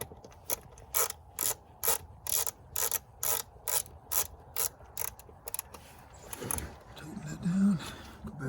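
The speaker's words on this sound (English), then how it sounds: "Finish it up with a screwdriver." A screwdriver tightens a screw on a Honda Accord mass airflow sensor, giving a rapid series of close ratcheting clicks in an even rhythm, followed by softer rubbing and handling noise.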